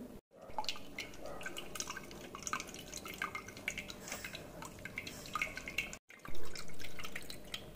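Ground masala water for pani puri drips and trickles steadily through a strainer, close by, with a soft splashing at the end.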